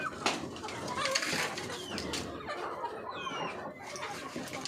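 Brahma chickens cluck and call in a lively, slightly noisy yard, with overlapping fowl sounds and faint voices around them.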